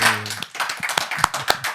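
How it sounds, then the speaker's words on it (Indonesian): An audience applauds a guest speaker at a public gathering of residents in Banten, a burst of scattered, uneven hand claps with distinct sharp individual slaps, close and fairly loud. "Tepuk tangan buat Bang Abraham Samad."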